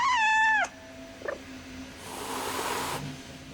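A pet cat named Sir Reginald Fluffington lets out one loud, drawn-out meow close by. A brief faint sound and a short stretch of soft hissing noise follow in otherwise quiet surroundings.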